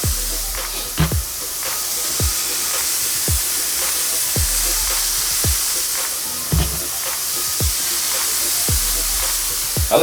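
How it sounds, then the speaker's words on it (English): Three whole-cut chicken breasts sizzling on a preheated Power smokeless grill, a steady close hiss punctuated by regular sharp pops and crackles, with no talking. "Ooh, hear that sizzle."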